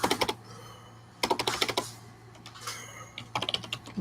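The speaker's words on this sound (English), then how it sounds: "You want me to do the typing?" Bursts of typing on a computer keyboard, quick clattering keystrokes in three clusters separated by pauses, close and fairly loud over a low steady hum.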